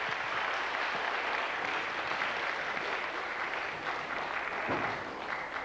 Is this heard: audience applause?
yes